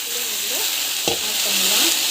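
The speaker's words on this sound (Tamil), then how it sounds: "பூண்டு போட்டு நல்லா வந்து வதக்கிக்கலாம்" Garlic sautéing in a pan, a loud close continuous sizzle with one sharp utensil scrape midway and faint tonal squeaks running underneath.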